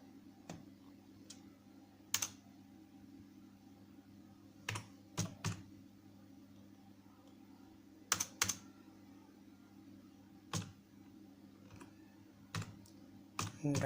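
Typing on a computer keyboard: scattered, crisp key clicks in short bursts with irregular gaps between them, over a quiet, steady background hum, with no voices.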